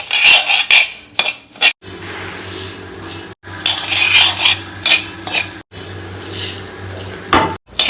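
Coriander seeds are dry roasted in a pan with no oil while being stirred, giving close scraping and rattling of seeds against metal in repeated bursts, broken by brief pauses.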